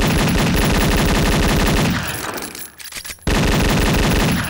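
Dual Beretta pistols firing in a DOOM mod, a fast, loud, continuous stream of rapid shots that breaks off briefly, then resumes.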